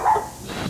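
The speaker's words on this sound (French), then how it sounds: "Un chien dans la bibliothèque" A poodle barks once, short and sharp, inside a library, followed by a quieter whimpering yip.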